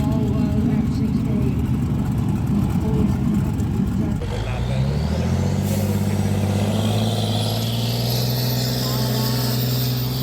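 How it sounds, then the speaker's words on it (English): A big old Volvo F60 truck at a steam rally, its heavy diesel engine revving up mid-clip and holding a loud, steady roar with a rising whine, after a busy outdoor stretch with people talking nearby. "Coming up next, we've got a big old Volvo F60."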